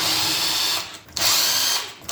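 A power drill zips side cover bolts out of a 224 engine during a teardown after 60 hours, giving two loud sustained whirring runs about a second each with a short pause between, close up and without talk.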